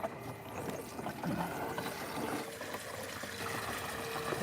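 Water rinses through the inside of a gold trommel, a steady splashing and trickling wash at moderate level throughout.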